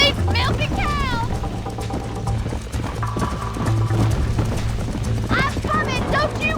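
Steady trotting hoofbeats of a horse ride in Red Dead Redemption, the clip-clop rhythm running throughout beneath spoken dialogue between characters.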